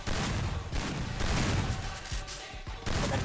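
Gunfire in a Counter-Strike match: dense bursts of rapid shots cluster together, break off briefly and then resume, loud and busy throughout.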